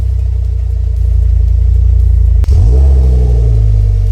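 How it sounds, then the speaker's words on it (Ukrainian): A car engine idles steadily, stops briefly once the ignition is switched off, then cranks and restarts with a sharp catch before settling back into a loud, close idle during a diagnostic check with a Launch X431 Pro scanner. "Вимикаємо запалювання, а потім пробуємо запустити двигун."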